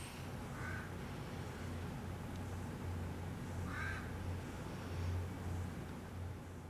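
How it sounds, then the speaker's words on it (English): Two faint, distant crow caws stand out against a steady low outdoor background hum, spaced a few seconds apart. "Shut up, Mr. Crow."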